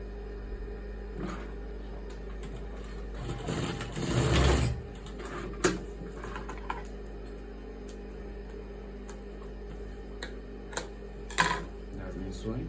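A sewing machine stitching a senator side pocket on fabric, a brief rapid whirring burst of stitching, then scattered ticks and clicks under a steady low hum.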